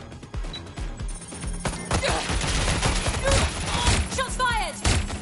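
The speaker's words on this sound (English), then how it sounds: "Shots fired!" Gunfire in the Watch Dogs Legion video game: rapid volleys of loud, sharp shots crackle in quick succession with thuds mixed in, and a voice can be heard in the background.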